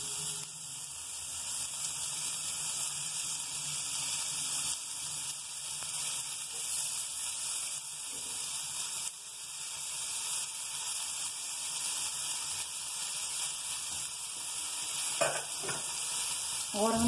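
Chowmein-style Maggi noodles sizzle steadily in a hot pan, a constant bright hiss with soft scraping as they are stirred and mixed, close and moderately quiet, ending in a few louder clatters.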